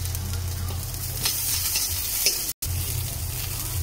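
Ginger and onion sauté in a wok bought for 500 pesos, ahead of clams going in for a clam dish: a steady close sizzle of frying with stirring scrapes, a brief dropout near the end, no talk.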